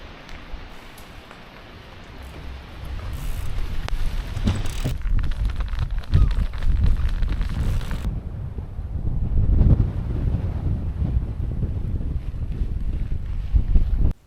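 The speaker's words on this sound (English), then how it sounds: "You can see here just how windy it has got." Strong wind on the John Muir Way trail in Scotland roars and gusts against the microphone, building after a quieter start and staying loud throughout.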